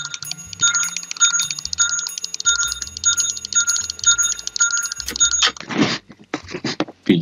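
A bell rings repeatedly in the horror video game Dark Deception, about nine evenly spaced bright rings over roughly five seconds, followed by louder bursts of noisy game sound.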